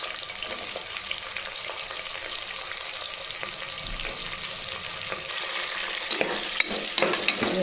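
Onion frying in hot ghee in a pan, stirred now and then, a steady close sizzle with soft scraping strokes that grow busier toward the end.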